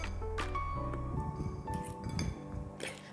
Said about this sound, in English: So here I added 2 eggs and we're gonna mix it all away